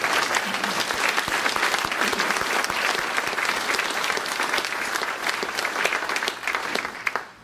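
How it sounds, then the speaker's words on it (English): An audience claps continuously through a mayor's state of the city address, a dense, even wash of hands from a large room that holds steady for about seven seconds before tapering off at the end. "He needs a round of applause."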